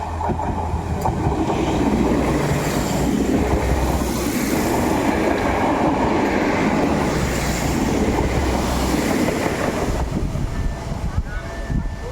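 Polregio passenger train rolling past on the Hel line, a steady loud rumble with rail noise filling the whole stretch, a person speaking briefly near the microphone.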